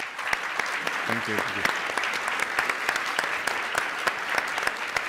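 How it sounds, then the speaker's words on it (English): Conference audience applauding steadily throughout, a dense continuous clatter of many hands at moderate distance, with a brief spoken thank-you from the stage over the clapping. "Ladies and gentlemen, please give them a round of applause."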